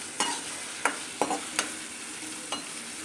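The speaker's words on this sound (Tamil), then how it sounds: "வெங்காயம் நல்லா வதங்கட்டும்" Onions and green chillies sauté in a pan, with about five sharp stirring scrapes spaced unevenly over a soft, constant sizzle.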